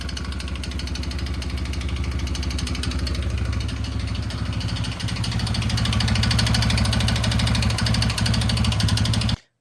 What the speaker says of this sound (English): That engine sounds a little noisy. Takes more throttle when the choke's applied, but still not much.